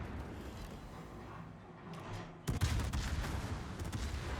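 Naval gunfire in World of Warships, fired from the battleship Vermont or the cruiser Salem during an operations match: a muffled ambient stretch, then a loud, sharp volley with rolling booms and crackling after it.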